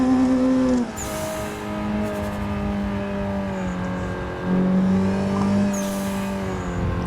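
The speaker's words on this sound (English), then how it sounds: "So if I can initiate the drifts with a clutch kick rather than the e-brake" Drifting car initiated with a clutch kick, engine holding a loud steady drone with sharp revving surges near the start and again around the middle, continuous and close with no talk.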